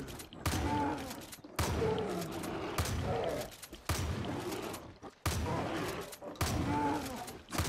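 Repeated heavy gunfire in Far Cry 5 (Dead Living Zombies) aimed at a zombie bear, loud blasts in several long bursts separated by brief gaps, with game mechanism clanks between shots.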